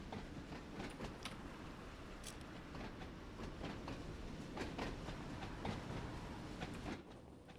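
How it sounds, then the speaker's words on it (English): A Class 484 Island Line train on the Isle of Wight in Train Sim World 2 rattles and clunks steadily over the rails, a continuous close rumble with repeated clicking joints and no speech. "Clunking along, rattling along."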